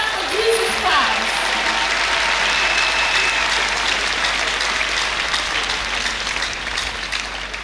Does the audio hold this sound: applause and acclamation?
yes